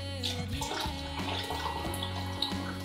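Red Bull energy drink pours into a glass with a steady fizzing, splashing stream, close and fairly quiet, lasting a few seconds without talk.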